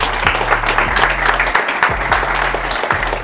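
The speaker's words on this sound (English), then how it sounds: "So give him a round of applause for the videos." A small group bursts into brisk, continuous clapping that stays even and close throughout, with no talk over it.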